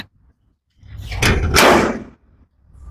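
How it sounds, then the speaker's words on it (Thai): A steel door at the back of a rented warehouse with a steel roof swings open in two loud, scraping bursts over about a second, preceded and followed by quiet room tone. "ตรงนี้เป็นประตู"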